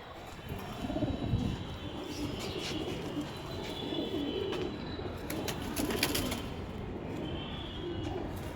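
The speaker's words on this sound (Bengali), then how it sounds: "এটা বেলজিয়াম রেসার পায়রা।" A Belgian racer pigeon coos softly in low, rolling murmurs against a busy background of chirps and scattered clicks, with no one speaking.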